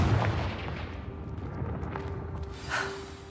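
Confringo spell blast in the Hogwarts Legacy video game: a fiery burst at the start that settles into a low crackling rumble, then a fainter whooshing flare near the end, fairly quiet overall.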